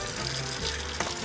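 A kitchen tap with an aerator spray nozzle runs at full power, giving a steady, even hiss of spraying water, close and continuous throughout.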